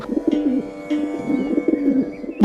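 Soft, throaty cooing of pigeons repeating in a continuous warbling pattern, fairly close, with no talking.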